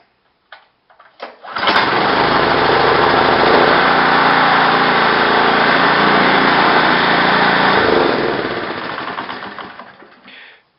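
A Bluebird power rake dethatcher with a newer engine is pulled to start after a few clicks and rattles, then runs with a loud, steady, buzzing small-engine drone close by before winding down.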